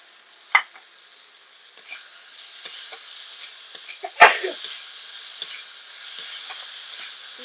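A spice paste with chopped tomato and salt fries quietly in a pan, a soft, steady sizzle broken by occasional sharp clanks of a spoon scraping and stirring against the metal.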